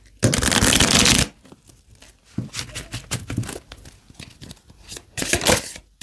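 Tarot cards being shuffled and drawn by hand, a long loud riffling burst followed by softer intermittent slides, flicks and card snaps, then another brisk shuffle near the end.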